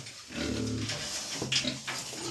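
Newborn piglets grunting during farrowing on a pig farm, a few short nasal grunts and squeals close by, separated by brief pauses against a quiet room hum.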